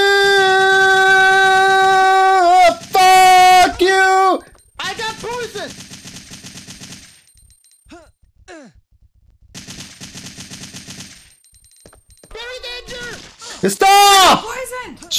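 Rapid bursts of video game gunfire from enemies being shot in a Resident Evil 3 mod, loud and close, arriving in clusters with short pauses, while excited voices shout over and between the shots.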